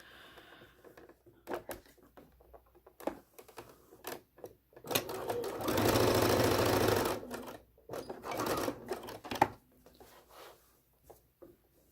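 Sewing machine stitching quilt pieces for a center star quilt, with scattered handling clicks and taps, then a steady loud run of stitching lasting about two seconds in the middle before the clicks and taps resume.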